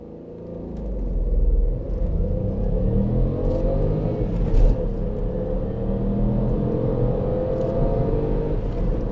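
A Ford Fiesta ST-Line MK8 with a 1-litre turbo engine accelerates hard from 0 to 60 on an open road, its engine a steady, loud, rumbling drone that builds and holds as the car gathers speed, with no talk.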